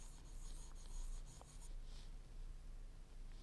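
A pen scratches across a notebook page in short, soft rubbing strokes, close and fairly faint, with no voices.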